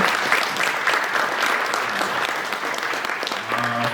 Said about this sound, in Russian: Поэтому, правда, аплодисменты этой работе.